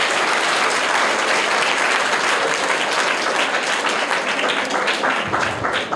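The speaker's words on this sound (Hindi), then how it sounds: "तो इनकी इस महानता के लिए जोरदार तालियां हो जाए एक बार" Sustained, dense applause from a large audience at a prize-giving for a quiz, loud and steady for the full stretch with no voices on top.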